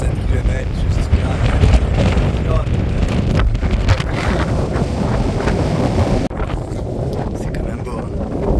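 Strong wind buffets a microphone on a hiking trail in Fuerteventura, a loud continuous rumbling roar with gusty swells, while someone speaks over it.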